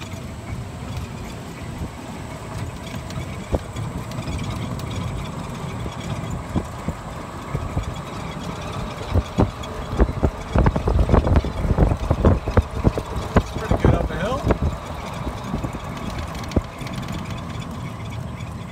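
A VW bus-bodied golf cart drives forward, its high-torque electric motor whirring alongside a cooling fan, with a steady drone joined midway by rattling clunks and knocks as it moves.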